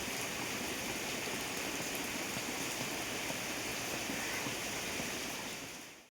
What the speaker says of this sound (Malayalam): അപ്പോഴത്തേക്കും നല്ലൊരു മഴ അങ്ങോട്ട് പെയ്യാണ്.